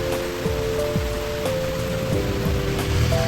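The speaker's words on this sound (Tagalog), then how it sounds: "Umuulan na guys." Steady rain patters on a surface, with a few faint tonal sounds scattered through the wash of noise.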